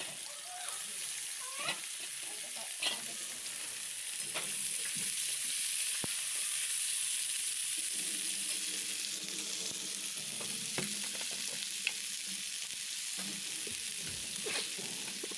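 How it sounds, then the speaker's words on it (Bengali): Sliced vegetables, including pointed gourd, fry in leftover fish-frying oil in a pan with salt and turmeric, a steady, close sizzle punctuated by occasional stirring scrapes and clicks, with no talking. "এবার আমি এগুলো ভেজে নিব।"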